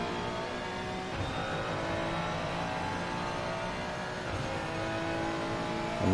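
A Lamborghini race car in Assetto Corsa Competizione at Bathurst, its engine holding a loud, steady high drone with a slight rise and fall across the whole stretch.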